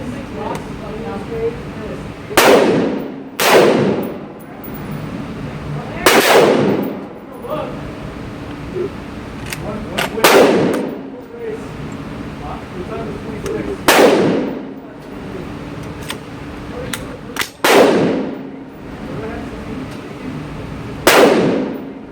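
Single rifle shots from an M16A1, about eight sharp, loud reports spaced a few seconds apart, with outdoor background noise between them.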